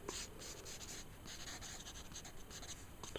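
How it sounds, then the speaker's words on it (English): A pencil sketching lines of a creature's face on paper, a soft, continuous scratchy scraping of short strokes, close but faint and quiet. "We can just start to sketch the side of the face like that"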